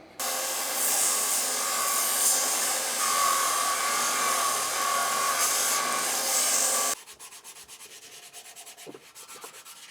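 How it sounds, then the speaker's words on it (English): A hacksaw cutting a pommel slot for a handmade sword rasps in fast, steady strokes, loud and close for about seven seconds before stopping, leaving only faint handling noise. "I'll cut it out now with a hacksaw"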